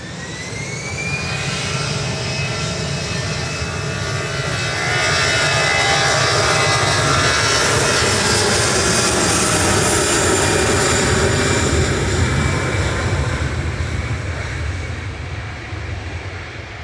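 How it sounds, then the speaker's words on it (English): Aer Lingus flight 203, an Airbus jet airliner registered EI-GAM, departs Manchester Airport for Dublin; a rising engine whine gives way to a loud, sustained thrust roar that swells, holds, then eases slightly, with no voices. "Aer Lingus 203 departing back to Dublin there"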